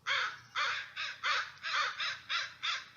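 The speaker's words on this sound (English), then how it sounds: "Hey, stupid crows." Crows caw in a rhythmic series of about eight harsh, evenly spaced calls over three seconds. The calls are fairly close and clear, with nothing else heard.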